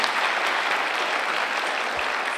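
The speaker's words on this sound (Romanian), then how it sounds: "Vă rog să aplaudați." Audience applause at a high school anniversary show, steady dense clapping from a large crowd filling the whole stretch at an even level.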